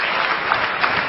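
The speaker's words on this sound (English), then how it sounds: "Give her a big round of applause." A brief burst of audience applause at a lecture, dense steady clapping from a crowd, loud and close for about a second.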